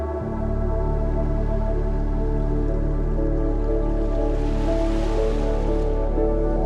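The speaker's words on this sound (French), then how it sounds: "Donc là je rince à l'eau" Cool running water splashes steadily as a face is rinsed at a sink, a continuous near wash of water with a brief burst of heavier splashing toward the end, no talking.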